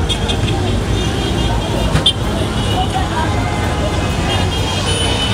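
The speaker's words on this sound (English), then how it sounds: "Whew, check out this traffic" Busy street traffic in Lagos, Nigeria, with cars and big buses: a steady roar of engines and road noise with a brief horn toot and crowd babble, heard close and continuous.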